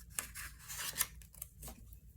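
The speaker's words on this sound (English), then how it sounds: "I just use my little snips and snip it out" Small snips cut through paper for a simple coffee card in a quiet room, giving a few soft, close crisp snips and light rustles of paper between them.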